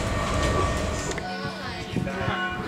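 Steady rumble of a moving train carriage in Switzerland, with faint rhythmic clatter and a brief squeal over the continuous interior noise.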